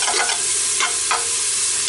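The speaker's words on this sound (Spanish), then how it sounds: "vamos a agregar primero la cebollita con el ajo, ¿ya? Está la cebollita, el ajito. Y eso primero tiene que sofreírse" Chopped onion and garlic sizzling loudly in hot oil in a pan, a bright steady crackle with a few short scrapes and stirring swishes of a utensil, close up and alone with no talk.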